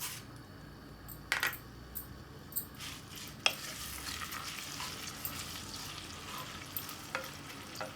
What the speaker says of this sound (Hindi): ऑयल गर्म हो गया, प्याज शामिल करते हैं इसके अंदर।